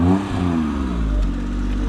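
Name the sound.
child imitating a car engine sound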